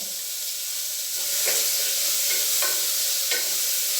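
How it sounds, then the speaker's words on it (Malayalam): Tomato rice ingredients fry in ghee with a continuous close sizzle, punctuated by several short scraping stirs that make the frying flare up in bursts. "ഇത് നെയ്യിലാണ് വറുത്തെടുക്കുന്നത്"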